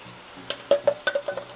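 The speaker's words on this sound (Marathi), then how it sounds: "आणि हा मसाला चांगला आपण भाजून घेऊया" Ground masala with turmeric and onion fried in a pan, a short run of scraping spatula strokes over a faint sizzle, five or six quick stirs close up.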